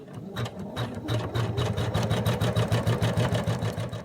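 A sewing machine stitches contrast fabric onto a washcloth, running in a steady rapid mechanical rhythm with a brief stutter early on, close and clear with no voices.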